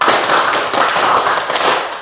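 A group of students at a junior high school claps together in a fast, steady burst of close, loud hand claps that fill the whole moment with no talking.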